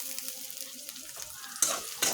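Whole garam masala crackles and sizzles in oil over lowered heat, a brief close hiss with a couple of sharper bursts near the end and no talking.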